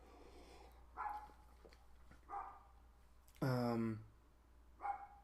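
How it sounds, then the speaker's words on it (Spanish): A neighbour's dog barks in short separate bursts at a distance, about four barks spread out with one louder, fuller bark near the middle, while a person murmurs softly in between. "disculpen el maldito perro de mi vecino que decide uh, ladrar a esta hora"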